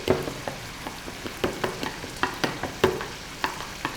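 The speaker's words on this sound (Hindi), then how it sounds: "बिरयानी मसाले को दही में डालकर अच्छे तरीके से फेंट लें" Biryani masala whisked into yogurt in a bowl for a Pakistani beef biryani, giving a steady run of close, soft clicking strokes in an irregular rhythm with no talking.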